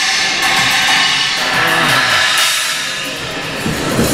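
A dark, trashy UFIC Tiger crash cymbal played steadily, its wash sustained and loud throughout, with a couple of accented hits along the way.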